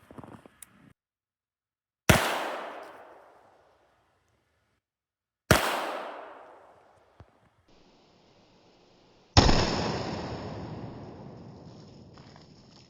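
Several 9mm 185-grain hollow-point rounds are fired outdoors at a watermelon, giving sharp loud reports that each ring and fade over a second or two, with a faint small knock between shots.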